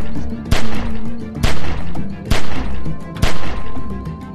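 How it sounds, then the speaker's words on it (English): Gunfire in The Walking Dead 400 Days video game, with four loud, sharp shots spaced about a second apart over a low background rumble. "I'm gonna give you this gun back now, and you're gonna shoot at this guy"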